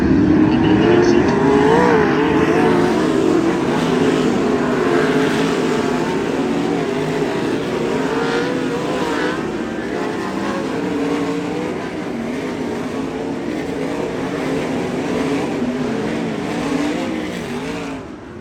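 Sprint cars from a World of Outlaws race at Keller Auto Speedway idling and rumbling as they line up side by side on the track, a steady loud engine drone with crowd and announcer voices mixed in.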